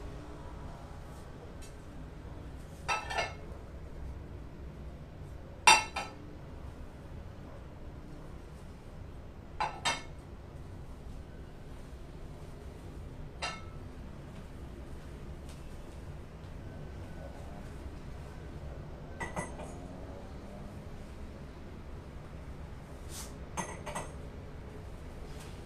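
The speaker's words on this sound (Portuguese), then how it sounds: "eu vou mudar pratos e taças para vocês verem também" Plates and wine glasses of a set dinner table being swapped for blue tableware, giving scattered light clinks and taps spread over a quiet background with no talk.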